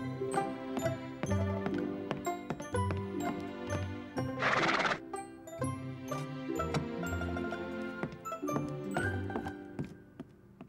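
A horse in a cartoon clip-clops in quick rhythmic hoofbeats under bouncy music, broken by a short burst of noisy neighing near the middle, with no talking.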